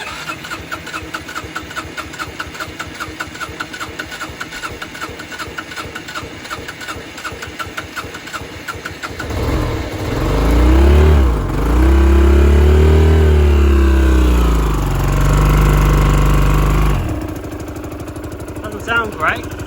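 A scrapyard motorbike engine idles with a rough, rapid, tractor-like putter, then revs up in several loud surging swells before dropping back to a choppy idle.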